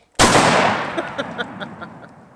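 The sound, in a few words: Benelli SuperNova 12 gauge shotgun firing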